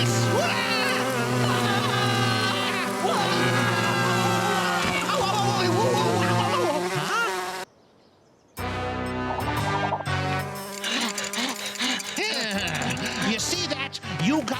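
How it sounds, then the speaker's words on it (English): Flies buzz around fertilizer in a garden shed, a dense, wavering drone heard under a cartoon voice and music, briefly cutting out before the buzzing and voices resume. "They're buzzing around the fertilizer."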